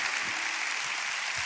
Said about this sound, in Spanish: Dale un aplauso a la gente que está en casa